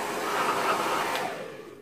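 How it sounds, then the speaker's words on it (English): A hair dryer blows steadily for a moment over insect specimens, a loud, even airy roar that cuts off and fades near the end. "you get your hair dryer and you just give it a bit of"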